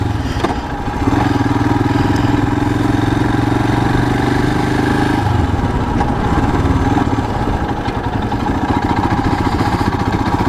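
A Royal Enfield Himalayan motorcycle engine lugs at low revs while riding, giving a loud steady thumping drone with low rumble and wind noise running continuously and close.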